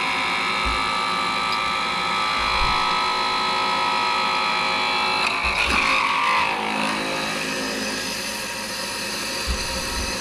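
A lathe drills into an ink pen blank with a steady mechanical whir and hum, which swells into a harsher grinding whine midway through the cut before easing back. Faint speech can be heard at the edges.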